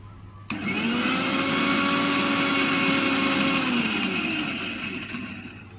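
A kitchen grinder whirs loudly and steadily for several seconds, grinding ginger and garlic into a paste, then winds down as it slows.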